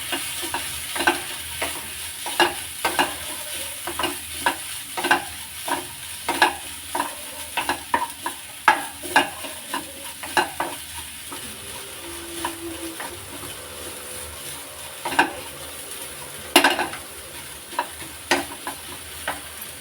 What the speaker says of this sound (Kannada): ಆಮೇಲೆ ಸ್ವಲ್ಪ ಕಾಯಿ, ಹಾಕಿ ಚೆನ್ನಾಗಿ ಮಿಕ್ಸ್ ಮಾಡಿ